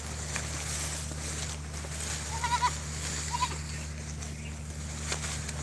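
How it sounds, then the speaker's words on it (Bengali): Goats kept on a farm after days of steady rain bleat faintly in the distance, a few short calls rising over a low constant hum and background noise, with no one speaking. "আসলে আমি আমার ছাগলগুলো দূরে চলে যাচ্ছে"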